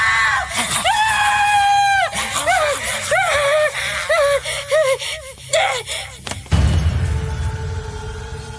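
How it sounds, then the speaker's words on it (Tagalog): A girl screams in fright, a long loud cry followed by repeated shorter shrieks and gasps, ending in a sudden burst of noise. "Bakit ka sumisigaw, anak?"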